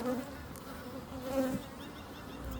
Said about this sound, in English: there's a lot of bees coming in with pollen, which is a real good sign